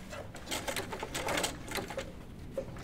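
A sewing machine stitches denim for pull-on jeans in a rapid, rattling mechanical chatter of uneven bursts. The sound is close but fairly quiet, with no talking.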